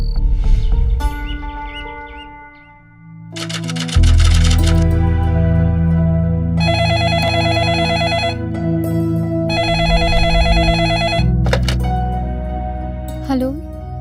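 A telephone rings in repeated bursts over a steady low drone, the electronic trill loud and close, pausing between rings.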